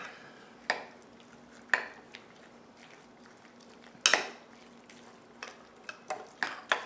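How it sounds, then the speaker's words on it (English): A spoon works through canned salmon mixed with flour in a bowl, producing quiet scattered clinks and scrapes spaced irregularly, louder in a short cluster midway and again toward the end. "Take your trusty spoon, and we're just going to stir this all together."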